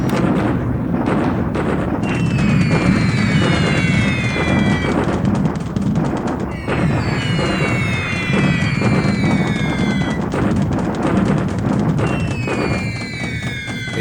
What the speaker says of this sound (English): Again some bombardment, this time against the port